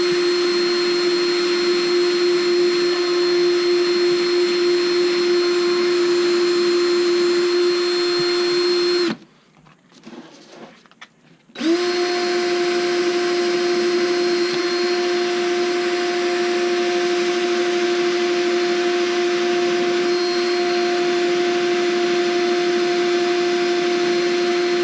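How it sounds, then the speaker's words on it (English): A steady, whining power drill runs continuously while drilling into PVC pipe, cutting out briefly for a couple of seconds before resuming at the same constant pitch. "We just got to keep drilling it down."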